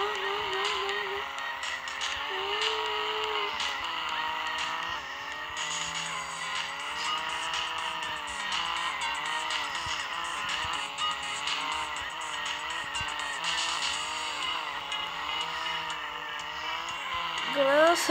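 Car drifting in the mobile racing game Drift Max: a steady engine drone with wavering pitch and sustained tire squeal across the whole stretch, loud and continuous, with someone speaking Portuguese over it now and then.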